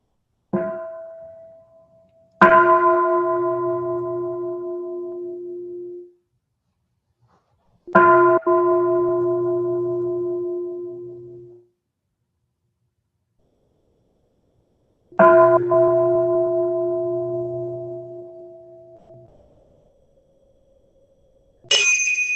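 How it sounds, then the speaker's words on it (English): A meditation bell is struck three times, each clear ring swelling and then slowly fading into silence before the next, spaced several seconds apart, with no voices. "let's just sit back and enjoy 3 sounds of the bell"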